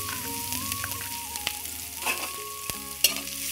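Cumin, chopped green chilli and grated carrot fry in a pan while being stirred, giving a steady close sizzle with a few scraping clicks, against a faint tonal background hum.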